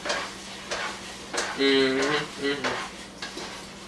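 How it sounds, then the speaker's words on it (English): Turkey patty mixture stirred in a frying pan, a spoon scraping and clinking against metal over a soft sizzle, several distinct strokes with a brief ringing tone partway through. "I gotta stir this again."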